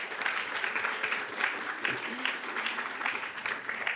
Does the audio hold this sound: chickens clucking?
no